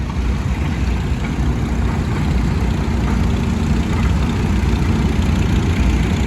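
A John Deere B tractor engine idles steadily at an outdoor rally, a loud, unbroken low rumble with no talk over it.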